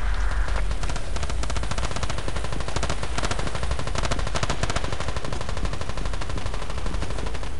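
Rapid automatic gunfire in the video game Battlefield 2 during a 16 vs 16 match, sustained loud bursts of shots rattling continuously throughout without pause.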